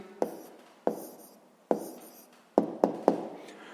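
A pen writes down a math answer in a sixth-grade exercise, making six close, sharp taps, each followed by a brief scratchy stroke that fades, spaced unevenly with a quick cluster at the end and no voice.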